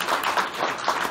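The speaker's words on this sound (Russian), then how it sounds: "аплодисменты." Audience applause at a business seminar, a brief dense patter of many hands clapping at moderate volume with no voices over it.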